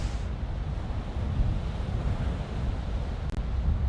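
Steady wind buffets the microphone on an open beach, a continuous broadband roar with surf-like wash underneath and no voices.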